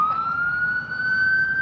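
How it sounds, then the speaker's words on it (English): An ambulance siren wails on a street outside Buckingham Palace in London, holding a loud, steady rising tone over low traffic rumble. "There's ambulances."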